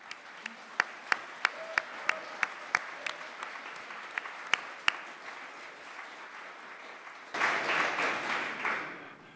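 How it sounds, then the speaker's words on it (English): A few scattered, sharp handclaps from an audience at the Great Northern Stop Brexit Conference give way to a fuller burst of applause near the end, heard in a large room with faint voices underneath. "It's always good to have applause before you speak"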